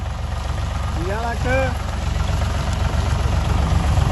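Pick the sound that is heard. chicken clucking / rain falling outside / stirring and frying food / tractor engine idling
tractor engine idling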